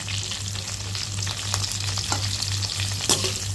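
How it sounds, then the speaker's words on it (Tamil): Drumstick pieces and raw mango sauté in oil for a dried-fish kulambu, a constant close sizzle with soft stirring scrapes over a low background hum and no talking. "முருங்காயும் மாங்காயும் போட்டுட்டு ஒரு 2 நிமிஷத்துக்கு அந்த எண்ணெயிலே வந்து நல்லா வதக்கி விடுங்க"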